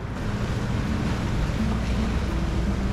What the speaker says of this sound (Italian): Belle onde di 1 metro abbondante che stanno entrando nel passaggio di Porto Venere